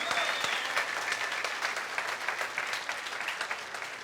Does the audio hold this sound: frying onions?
no